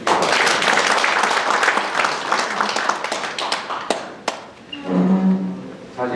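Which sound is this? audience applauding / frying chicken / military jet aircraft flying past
audience applauding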